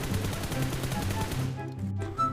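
Rapid automatic gunfire from hip-firing without a scope in PUBG Mobile, a dense, steady burst of shots that cuts off near the end.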